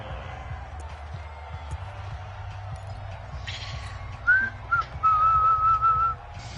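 A referee's whistle in a video game American football match blows in a few short, shrill blasts, then one sustained tone, over low crowd murmur and game ambience.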